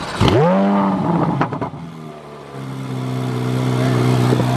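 Chevrolet Corvette C8 Z06 engine cranking and firing with a sharp rising roar, dipping briefly, then settling into a loud, steady high idle.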